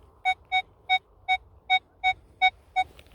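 A Legend WHP PRO metal detector gives eight evenly spaced, clear high beeping tones over a field, each short and bright, with faint background rustle between them.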